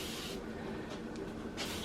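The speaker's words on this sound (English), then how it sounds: "I'm going to take this and I'm going to spray this" A fine-mist spray bottle sprays vinegar in a few quick hissing bursts, close and fairly faint, with no voices.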